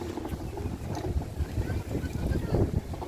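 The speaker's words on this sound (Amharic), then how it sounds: "ያ ንፋሱ በጣም ኃይለኛ ነው ብያችኋለሁ። በጣም ነው የሚነፍሰው" Strong gusting wind buffets the microphone, a loud rumbling roar that swells and dips unevenly throughout.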